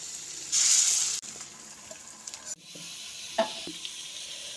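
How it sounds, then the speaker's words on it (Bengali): Bora fritters deep-frying in oil, a batch being lifted out before the next round, give off a bubbling sizzle with a loud hissing burst near the start and occasional clinks and scrapes of a utensil. "এক রাউন্ড ভেজে তুলে নেওয়ার পর আবার আর এক রাউন্ড ভেজে নেব।"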